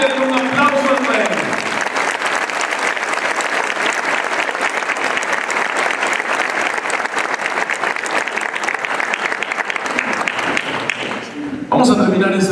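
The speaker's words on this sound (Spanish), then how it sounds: "Y aquellos que están dispuestos, regálenle un aplauso al Rey" A church congregation breaks into sustained, loud applause that fills the room evenly for several seconds before tapering off near the end.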